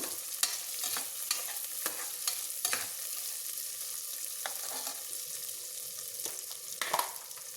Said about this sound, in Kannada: ಅವರೆಕಾಳು ಹಾಕ್ಕೊಂಡ್ಮೇಲೆ ಮಿಕ್ಸ್ ಮಾಡ್ಕೊಬೇಕು